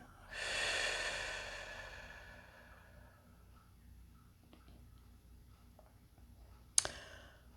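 One slow, audible breath in a guided breathing exercise, a soft airy rush that swells and fades over a few seconds, followed by quiet with faint clicks and a sharp tap near the end.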